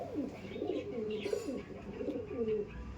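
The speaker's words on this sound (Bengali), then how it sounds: "আর স্ট্যান্ডিং দেখো পায়রা" Giribaj pigeons at a sale in Sodpur coo repeatedly in soft, rolling phrases, close by and fairly quiet, with no talking over them.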